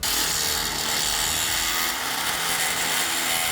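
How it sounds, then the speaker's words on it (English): A 14mm cobalt drill bit bores through metal while lifting a Jeep Wrangler LJ, giving a loud, steady grinding whir that holds for the whole stretch with no talking. "This is a 14mm drill bit."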